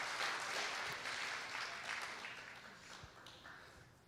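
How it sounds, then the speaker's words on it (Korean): An audience at a gathering claps in faint, distant applause that slowly dies away over a few seconds. "박수"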